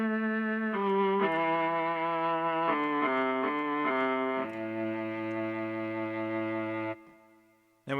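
Mellotron viola tape sample run through a Boss RE-202 echo, a close, full string tone stepping through several held notes in a slow phrase, alone and steady before cutting off near the end.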